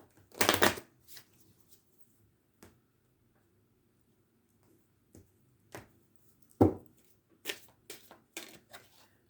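Tarot cards being shuffled during a love reading, heard as a loud riffling burst at the start followed by scattered soft card snaps and flicks in an otherwise quiet room.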